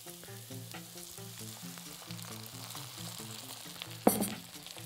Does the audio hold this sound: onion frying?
yes